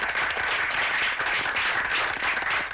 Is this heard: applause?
yes